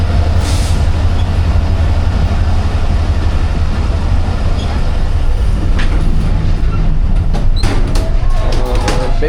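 A freight train rolls past at Bin Qasim station with a loud, continuous rumble of wheels on rails. Clanks and squeals rise toward the end. The train is close, and a faint voice may be heard.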